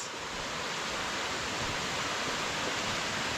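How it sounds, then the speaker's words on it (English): A waterfall at Comer's Creek Falls, heard from a narrow trail leading down to it, as a steady, dense rushing roar that holds at an even level throughout with no voices. "you hear the rush of the water"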